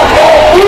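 Protesting polytechnic students chant a slogan in a loud, brief, sustained group shout at a road blockade in Chattogram, close and dense.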